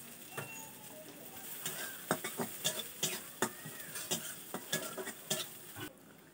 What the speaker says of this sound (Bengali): এবার নেড়ে চেড়ে নিয়ে রসুনটা দিয়ে দেওয়া হচ্ছে।